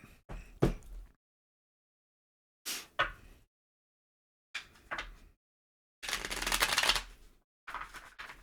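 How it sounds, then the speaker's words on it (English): Several short bursts of tarot card riffling and slapping as the deck is shuffled and cut, separated by silent gaps, with a longer dense shuffle near the end; close and fairly quiet. "I already shuffled this deck a bunch, so I'm doing one and cutting it"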